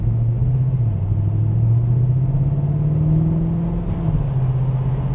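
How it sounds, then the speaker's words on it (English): A 2010 Mercedes-Benz E63 AMG's V8 engine hums in a low gear, a steady deep rumble with a gentle rise and fall in pitch, heard from inside the car without talk. "That V8, you just constantly want to stay in a low gear just to hear it."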